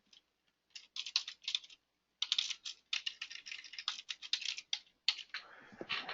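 Quiet, close keystrokes on a computer keyboard come in irregular bursts of rapid clicking with brief pauses, as a text label is typed into a form in office software.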